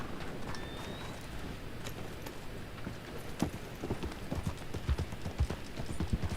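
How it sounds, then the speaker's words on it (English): Horse hooves clip-clopping in the Red Dead Online video game, a soft, uneven run of hoofbeats under steady background noise, growing slightly busier toward the end. "Somebody's horse is here."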